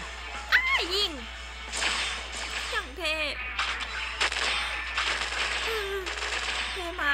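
A Gundam mobile suit fires its attack in the mobile game SD Gundam Battle Station, a run of sharp laser shots and whooshing sweeps with rising and falling electronic tones, loud and close, under game music.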